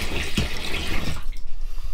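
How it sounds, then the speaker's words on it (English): Water pours from a jug straight into a motorhome's fresh water tank, a loud close gushing splash that runs for about a second and then stops, leaving a quieter tail. "So let's just pour this straight into there."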